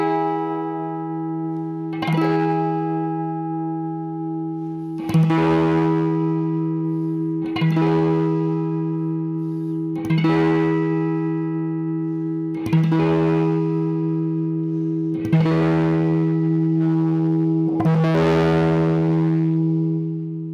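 Electric guitar played through the clean channel of a Maekloeder Dual Channel 5000, with a filter sweep shifting emphasis between treble and bass. Eight sustained chords are struck at a steady, slow pace, each ringing out on its own with no talking.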